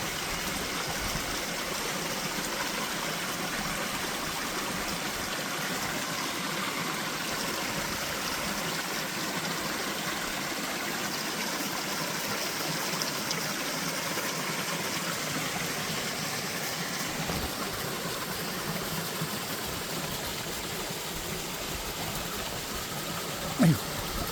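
Mountain valley stream behind Daechon village near Miryang and Cheongdo, water rushing and babbling in a steady, close, continuous wash.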